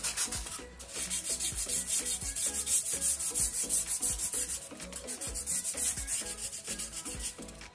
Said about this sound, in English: Now I'm going to sand it in a way so that the wing edge is curving like this way.